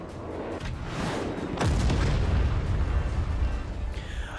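Heavy booming explosions in the naval fort-battle game Forts, arriving in a rolling cluster that swells into a loud, sustained low rumble and lingers under crackling debris.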